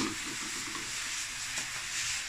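Squid sautés in a pan for squid adobo, producing a continuous close hissing sizzle with faint stirring scrapes and no voices.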